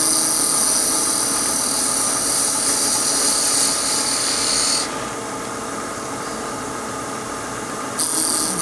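Wood lathe spinning a Christmas ornament blank, a steady loud mechanical whir with a bright high whine that drops away midway and returns near the end, no voices.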